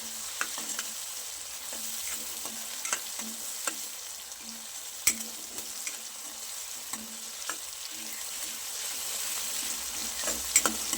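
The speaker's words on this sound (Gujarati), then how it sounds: "ડુંગળીમાં રહેલી કચાશ દૂર થઈ જાય ત્યાર સુધી આપણે ટામેટા અને ડુંગળીને સાતળીશું" Chopped onion and tomato sautéing in a pan for moong dal, a steady soft sizzle with scattered light clicks of stirring, close and fairly quiet, no voices.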